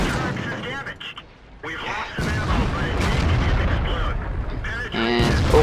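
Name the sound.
tank cannon shot in World of Tanks video game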